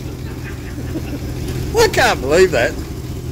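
A 1954 Oldsmobile's engine idles with a steady low rumble throughout, while someone talks briefly over it.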